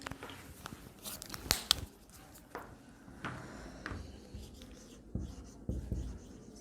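A pen writes by hand on paper, with quick scratchy strokes, taps and pauses repeating irregularly, close and fairly quiet.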